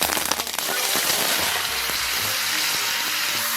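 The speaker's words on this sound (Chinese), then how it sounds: "咱们把冰糖炒至枣红色" Rock sugar stir-fried in a wok to make a caramel colour for braised pork belly, a loud dense crackling sizzle with scraping stirs and rattling clicks throughout.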